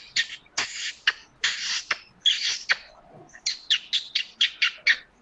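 A person mimics a martin's call near Corbett Tiger Reserve, a rapid series of bright chirping bursts in uneven clusters, loud and close with short gaps between.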